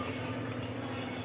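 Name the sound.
water poured into cooking pot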